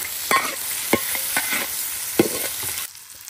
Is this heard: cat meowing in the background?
no